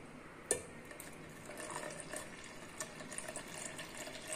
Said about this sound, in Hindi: अब इसके अंदर हम हमारा बाकी का दूध डालेंगे।